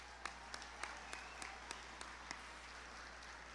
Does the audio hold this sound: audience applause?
yes